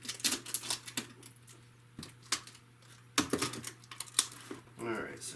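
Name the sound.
cutting twist ties on toy packaging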